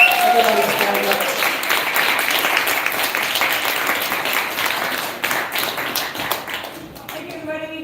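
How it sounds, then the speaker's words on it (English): Audience at a vegan poetry event giving a round of applause, a loud, continuous burst of many hands clapping with voices mixed in, gradually fading toward the end. "I think Joreen deserves a round of applause."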